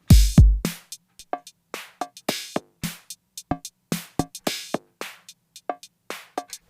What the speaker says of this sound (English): So when you cut out the low and a bit of the high and boost the mid, it sounds like this.